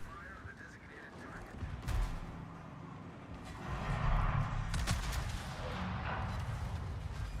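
Secondary guns on a warship in the game World of Warships fire in a scattered series of dull booms, moderately loud under a steady rumbling battle bed, with a voice talking over them.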